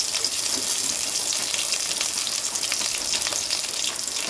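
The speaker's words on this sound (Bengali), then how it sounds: "আমি এখন দিয়ে দিচ্ছি কড়াইতে তেল, তার সাথে অ্যাড করে দিচ্ছি পেঁয়াজ, কাঁচামরিচ, শুকনো মরিচ আর রসুন" Onion, green chili, dried chili and garlic fry in hot oil in a karahi, giving a steady, close, crackling sizzle that holds evenly throughout with no talking.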